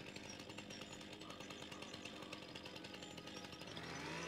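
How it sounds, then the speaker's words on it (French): A chainsaw engine in the video game Farming Simulator 25 buzzes continuously with a rough, rattling drone, steady and moderately loud without pauses. "Et je te montre pour la tronçonneuse."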